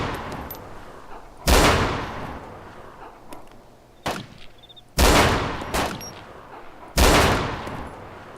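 Gunshots in the DayZ video game: three loud, sharp reports spaced a couple of seconds apart, each with a long decaying tail, mixed with a few fainter, quicker cracks against a quiet outdoor background.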